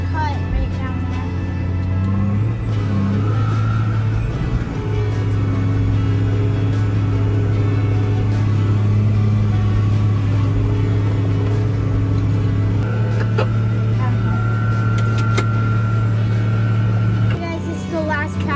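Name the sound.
truck driving on a farm during corn harvest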